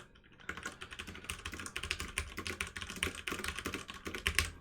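Rapid, steady typing on a computer keyboard at a desk with a stream deck nearby, keystrokes clattering close and clear in a continuous run with no talk over them.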